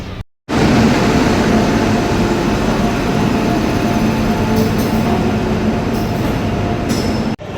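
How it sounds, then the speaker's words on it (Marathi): A passenger train arriving at a station rumbles loudly and continuously past at close range, a heavy steady roar of wheels on rails with faint metallic squeals near the end. "तर काय आता ट्रेन आल्या"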